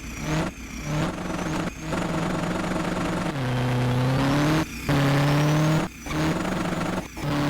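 A car engine in a Roblox drag racing game revs repeatedly with its pitch climbing and falling through several sustained, loud pulls, broken by short gaps between revs, with no talk over it.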